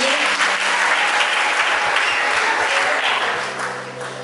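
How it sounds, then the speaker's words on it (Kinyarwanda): An audience applauds at a gospel music event, a dense, steady clapping that stays loud and continuous, then eases slightly toward the end. "Tukomere Imana amashyi ku bw'ibyo."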